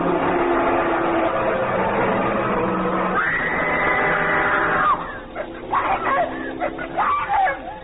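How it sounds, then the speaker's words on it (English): Radio drama effect of a truck nearly running a man down: a steady engine drone, then a woman's sustained scream, followed by a squeal and scattered jolting noises and voices. "The truck had tried to run me down, and it would have if she hadn't screamed."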